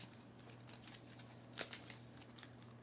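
Game cards for the Earthborne Rangers card game are shuffled in a quiet room, with one brief crisp riffle burst followed by a few faint soft card flicks.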